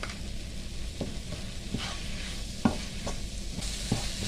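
Masala spices frying in a pan, with salt added, for a stuffed brinjal curry: a steady low sizzle runs throughout, and a spoon clicks and scrapes against the pan at intervals, with no voices.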